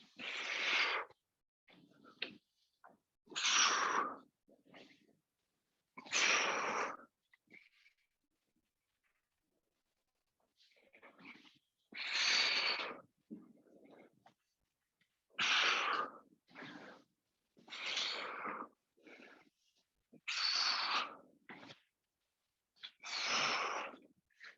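Heavy, forceful breaths from a person doing balance and rotational workout moves, a dozen or so close, loud exhalations in bursts with short pauses and one longer gap midway.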